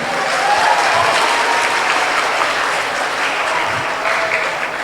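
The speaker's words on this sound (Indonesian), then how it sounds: "Tepuk tangan dulu untuk semuanya." A crowd at an Islamic lecture gives loud, dense, sustained clapping that holds steady for several seconds with no voices over it.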